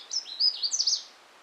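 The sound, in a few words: Canada warbler singing in the distance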